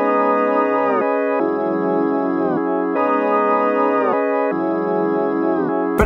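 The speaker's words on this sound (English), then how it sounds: "Next, we just came into Effectrix and added this weird little vinyl." A synth melody run through a vinyl effect from the Effectrix plugin plays alone as a bright, harmonically rich line in sustained phrases with sudden pitch changes and a filtered, lo-fi character.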